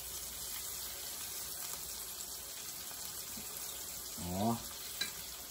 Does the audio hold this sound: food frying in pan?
yes